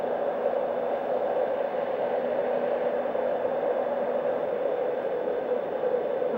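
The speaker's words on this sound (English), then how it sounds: "You can adjust the tone of the white noise by turning the collar." Marpac Dohm NSF white noise sound machine, with its tone set by turning the collar, gives off a steady, even hiss of airy fan-like noise at constant loudness throughout, with no voices.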